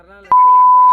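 A loud, steady censor beep at a single pitch cuts in abruptly after a brief moment of low voice and holds to the end.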